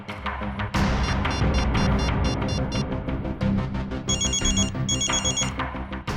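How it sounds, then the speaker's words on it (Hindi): A phone ringtone plays loudly and close, a bright electronic melody with repeating chiming notes and a steady rhythmic beat. "मेरे फोन करने पर अलग तरह की रिंग बजी?"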